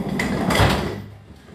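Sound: door being slammed shut

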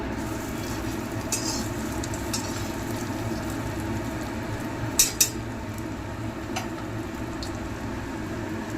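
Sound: prawn nuggets frying in hot oil

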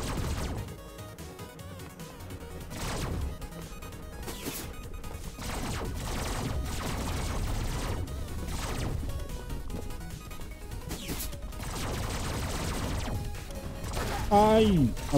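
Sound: gunshots in the video game 30XX

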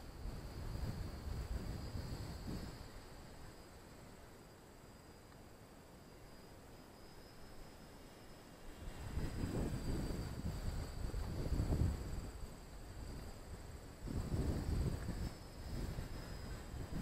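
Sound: wind blowing on microphone at model airplane field

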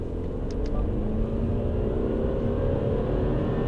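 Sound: Subaru Forester e-Boxer accelerating from standstill, CVT gearbox

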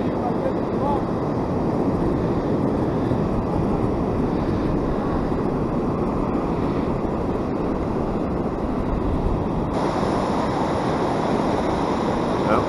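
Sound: ocean waves on the Oregon coast surf

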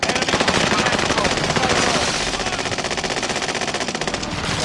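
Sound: machine gun fire in a video game

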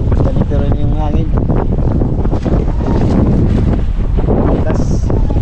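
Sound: strong wind blowing at sea

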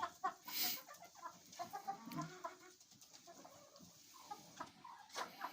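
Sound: hens clucking in chicken coop

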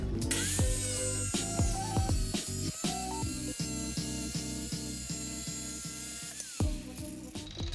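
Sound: Dewalt hand-held tile saw cutting with water

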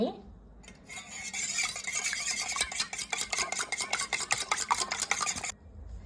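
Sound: beating eggs in a bowl for an omelette

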